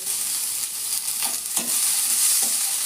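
Onions frying in a pan for avalakki susla, a steady close sizzle with a few scraping stirs of a spatula across the pan.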